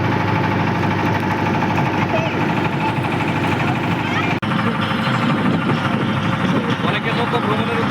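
A boat engine drones steadily on a river trip, with a continuous low hum and rattle as people talk over it.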